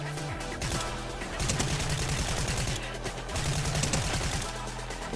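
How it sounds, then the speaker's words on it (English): Rapid SMG bursts in Fortnite rattle out in repeated fast volleys, dense and continuous with brief gaps between strings of shots, over the game's background sound. "This SMG is so good, bro."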